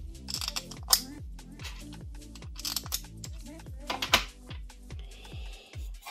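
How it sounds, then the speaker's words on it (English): Screws are fitted into the end plate of a DIY fuel cell, producing a string of close, rhythmic metallic clicks and light ticks, some louder than others, in a quiet room. "So into this end plate I will put these four screws."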